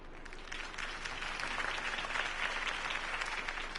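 Crowd applause after a campaign speech in the video game Telltale Batman, a sustained wash of many hands clapping that swells slightly and holds steady, moderately distant, with no voices over it.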